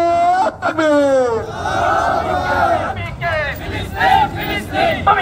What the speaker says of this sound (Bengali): তাকবীরকে আমরা সকলে স্বাগত জানাই। নারায়ে তাকবীর।